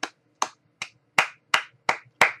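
Seven crisp, close hand claps land alone in an even, unhurried rhythm, each with a quick decay and silence between.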